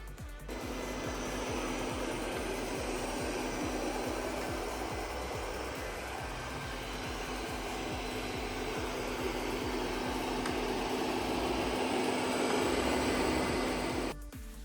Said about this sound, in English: then you'll see the vacuum running